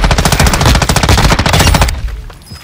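Rapid automatic gunfire in a video game, with a loud, fast, evenly spaced burst of shots for about two seconds before it cuts off.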